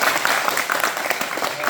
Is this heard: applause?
yes